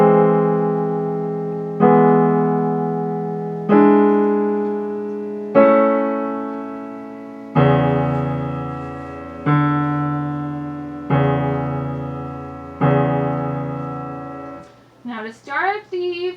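Sustained piano chords from Rachmaninov's Piano Concerto No. 2 Adagio Sostenuto struck one after another, each ringing out about two seconds before the next, ending with a brief burst of voice.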